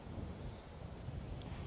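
Wind blows across an open golf course, a steady low rumble of gusts buffeting the microphone with no clear pauses or talk.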